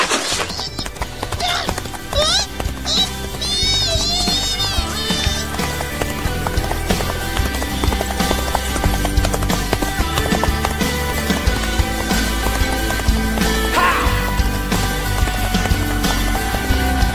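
Horse hooves clip-clop at a gallop in an animated fantasy film scene of a princess learning to ride, with a whinny and a brief shout, all under a continuous layer of music and effects.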